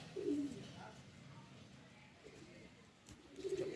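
Domestic tournament-flying pigeons give soft, low cooing, one near the start and another at the end, faint against a quiet background murmur.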